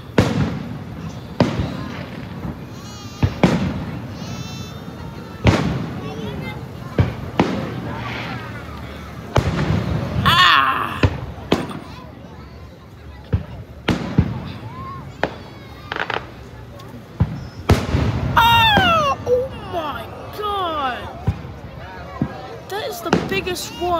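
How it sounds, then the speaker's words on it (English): Fourth of July fireworks boom and crackle repeatedly, some with whistling trails, while people talk and cheer throughout. "Fireworks show."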